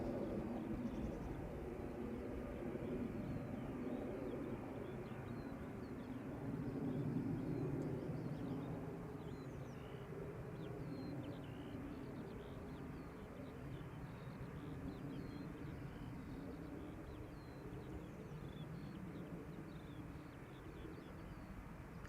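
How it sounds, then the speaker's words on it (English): Airliners at Amsterdam Schiphol Airport, including a Ryanair jet bound for Dublin, produce a faint, steady, distant rumble that swells slightly and then holds as a low roar. "Two airplanes on their way, the first one being Ryanair, which will be going to Dublin"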